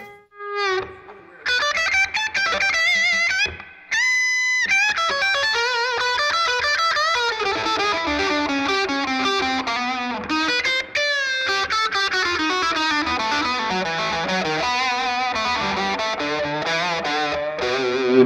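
Electric guitar played through distortion with an octave-like effect, in a fast run of bright, sustained notes with a brief gap near the start, loud and alone.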